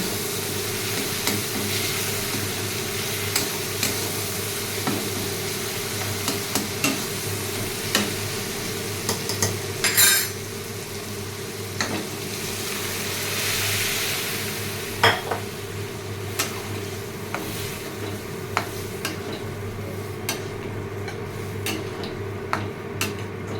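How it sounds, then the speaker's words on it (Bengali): Ghugni poured into fried, well-cooked masala in a pan and stirred, with a steady low sizzle under repeated scraping and clinking of the spoon against the pot, close and moderately loud throughout. "এখন ঘুগনিটা ঢেলে দিব।"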